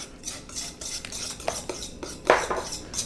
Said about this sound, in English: want to whisk this here all together